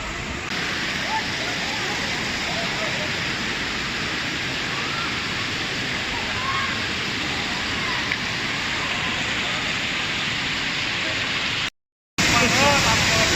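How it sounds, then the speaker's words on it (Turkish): Waterfall at Saitabat near Bursa, heard up close as a dense, loud, unbroken roar of falling water, with a brief cut near the end. "Şelalelerinden dibine kadar geldim."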